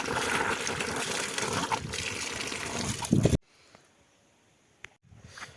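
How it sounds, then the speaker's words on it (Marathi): Water running steadily from a village tap, a loud continuous gush and trickle that cuts off abruptly, leaving quiet with a few faint knocks. "नळाला पाणी आहे"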